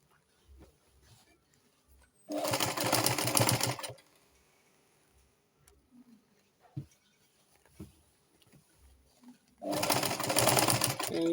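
A sewing machine back stitches a flounce sleeve in two loud, steady runs of about a second and a half each, separated by quiet handling sounds and faint movement.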